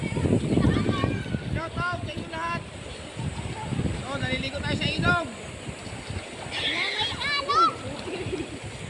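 People splash about while bathing in a fresh mountain river, with irregular water splashes and a steady stream rush running throughout as several voices, including children, talk and call out nearby.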